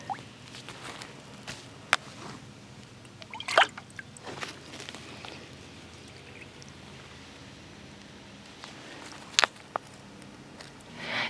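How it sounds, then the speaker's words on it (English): Drip irrigation in a garden with pepper plants, leaking sparse water drips and small trickles, a few sharp isolated plinks standing out over a quiet outdoor background. "Now you guys can see our drip irrigation here."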